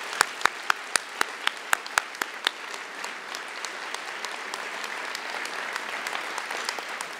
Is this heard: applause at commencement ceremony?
yes